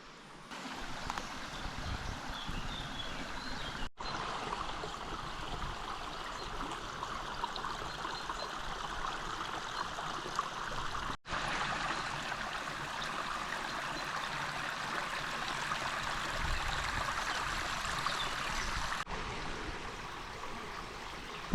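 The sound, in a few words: water running in the Mili gorge, stream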